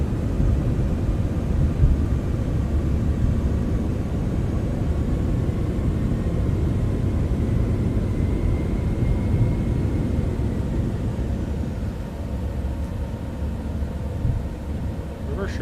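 Airliner touching down at Teterboro with thrust reversers deployed in Microsoft Flight Simulator 2024, a steady loud low roar of engine and rushing air holding throughout, easing slightly near the end.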